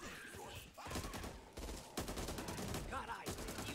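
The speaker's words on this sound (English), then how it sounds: "Minigun." Rapid sustained gunfire from a minigun in the zombie shooter game Back 4 Blood, a continuous fusillade with brief breaks, heard at low overall level in a game mix.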